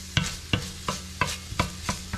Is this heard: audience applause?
no